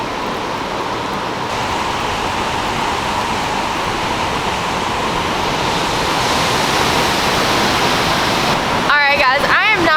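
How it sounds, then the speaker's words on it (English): Roaring Greeter Falls in Tennessee, a large waterfall, heard up close as a loud, continuous rushing wash of water, with a voice speaking briefly near the end. "that is probably the biggest waterfall that I've ever seen in person this close"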